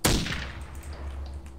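A single sharp gunshot in the game DayZ cracks loudly at the start, then rings off into a fading metallic tail over a low hum.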